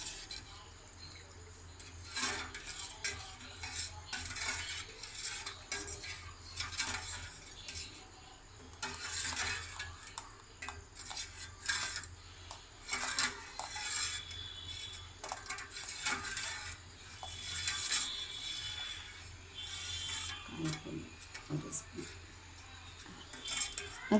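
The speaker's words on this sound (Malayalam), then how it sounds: "ഇനി ഒന്ന് ഇളക്കി കൊടുക്കാം" A spoon stirs salted food in a cooking pot, giving scattered metallic clinks and scrapes against the pot in irregular bursts, fairly close, with a low background hum.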